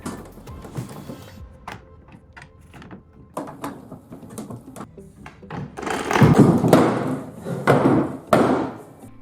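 An old wooden piece of furniture is taken apart: scattered knocks, clunks and scraping thumps, sparse at first, then a louder burst of banging and rattling near the end.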